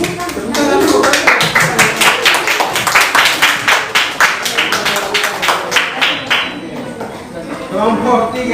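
A classroom group breaks into brisk clapping, a run of sharp, close hand claps in a quick uneven rhythm that thins out and fades near the end, with faint voices at the edges.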